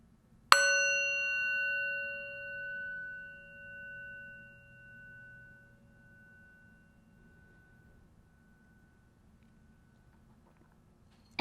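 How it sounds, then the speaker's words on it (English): A single meditation bell is struck once and rings out clearly, its bright tone fading slowly into quiet over several seconds. "And I'm going to ring the meditation bell."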